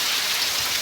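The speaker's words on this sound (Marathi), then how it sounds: "एवढं लई पाऊस पडायला लागला." Heavy rain pours down steadily, a dense, even hiss of falling water close by with no voices or other sounds over it.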